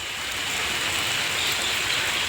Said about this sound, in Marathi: पाऊस खूप पडायला लागला आहे